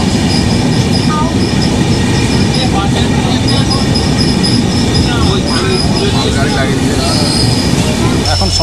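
A passenger train bound for Jhargram station in West Bengal rumbles loudly and continuously, with rattling wheels and thin metallic squeals throughout, heard up close from on board.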